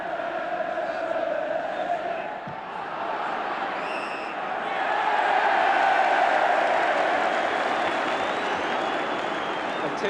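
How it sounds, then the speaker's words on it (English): A large football crowd at an Everton versus Bayern Munich Cup Winners' Cup semi-final roars and cheers as Everton win a free kick, a dense, sustained swell of noise that builds and holds. "tinge of irony about the cheering as Everton finally get a free kick"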